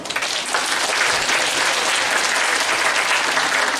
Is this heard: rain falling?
no